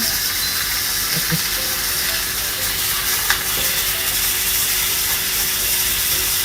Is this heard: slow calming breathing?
no